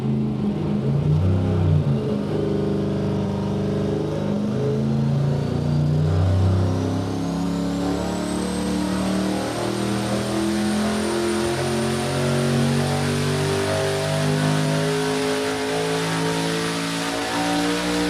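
A high-horsepower boosted V8 pulls on an engine dyno, a loud sustained roar with dense harmonics that rises steadily in pitch, joined by a thin whine climbing above it, close and continuous throughout.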